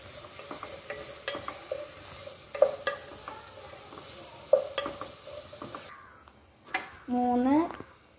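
Fried rice being stirred in a pan, scattered scraping and clinking strokes with a soft sizzle underneath, a few sharper metallic taps, and a brief louder burst near the end.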